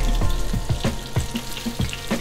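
Cajun onion rings frying in hot oil give a steady, loud sizzling crackle, with a few soft bubbling bursts as they are flipped, heard alone without talk.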